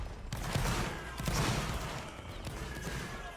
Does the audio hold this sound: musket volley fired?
yes